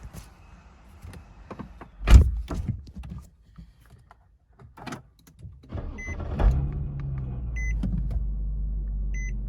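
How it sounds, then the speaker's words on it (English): An Infiniti G37 is started: a door thump and interior clicks and chimes, then the engine turns over and settles into a low steady idle close by. "let's go back and start the vehicle"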